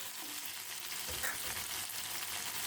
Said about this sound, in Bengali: আলু আর পটলটা একটু কষিয়ে নিয়েই